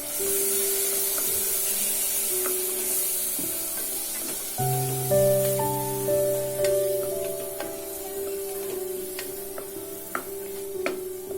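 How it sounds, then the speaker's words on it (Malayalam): Crushed ginger, garlic and shallots sauté in hot oil for a South Indian mutton curry, giving a steady close sizzle and hiss with faint sustained tones in the background. "എന്നിട്ട് നന്നായി ഒന്ന് വഴറ്റിയെടുക്കാം"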